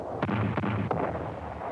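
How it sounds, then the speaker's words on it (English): Cannon fire from an old 16mm film soundtrack: three quick, heavy booms in succession over a steady hissy rumble, with no talk. "Cannon to the right of them, cannon to the left of them, cannon in front of them, volleyed and thundered."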